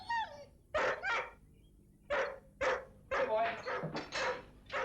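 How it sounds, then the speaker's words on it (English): A neighbour's dog gives several sharp barks and yips in bursts, fairly close, with a voice speaking briefly between them. "Whose dog is that, anyway?"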